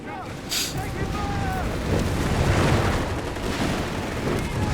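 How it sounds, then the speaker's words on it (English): Strafing run in Company of Heroes 3: a sustained roar of aircraft gunfire and rumbling impacts lasting several seconds, loud and close, with a brief sharp burst near the start. "that's a strafing, not a bombing run"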